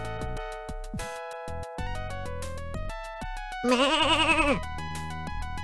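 A burst of wavering sheep bleats from the sheep being milked in the point-and-click game Legend of Kyrandia 2, rising over a plinking synthesized music score for about a second in the middle.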